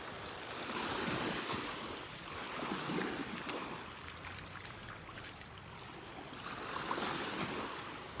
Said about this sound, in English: It's funny how long it takes for the waves to come to shore when the boats pass by.